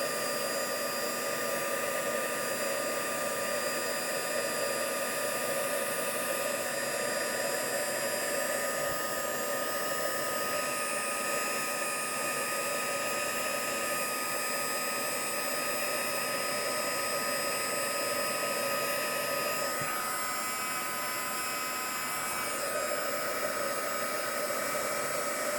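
An embossing heat tool blows steadily at close range, heating embossing powder on a card until it turns shiny, a constant loud whooshing hiss with a faint tonal whine that holds unbroken for the whole stretch.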